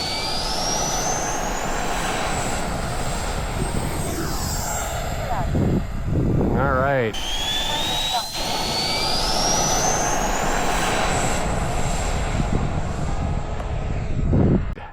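An FMS F86 Sabre 80 mm electric ducted-fan RC model jet flies overhead, a continuous loud whine that rises and shifts in pitch as it passes, while a person speaks briefly.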